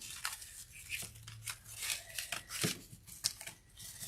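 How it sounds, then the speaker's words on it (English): Scissors snip through geranium stems, giving several short crisp cuts mixed with rustling and crinkling of the plant material, close and fairly quiet. "I'm going to cut the little pieces down."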